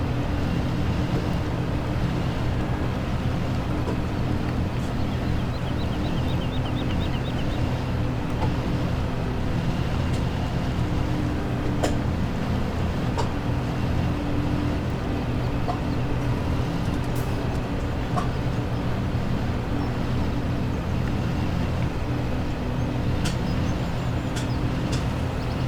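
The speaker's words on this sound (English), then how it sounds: "Turn down the engine volume by half again." Steady drone of a vehicle engine in a farming video game, a continuous low rumble holding at constant level throughout with faint intermittent clicks, no speech.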